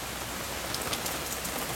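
Steady heavy rain during a hail storm at an old farmhouse near Siena, a dense even hiss of drops with faint scattered patters and no voices.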